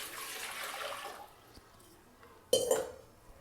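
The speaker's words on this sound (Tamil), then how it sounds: "இந்த செம்பில் ஒரு செம்பு தண்ணி ஊற்றிடலாம்" Water poured from a small metal vessel into a pot while making a keerai soup, a brief splashy burst near and fairly loud after a quieter stretch of faint rushing.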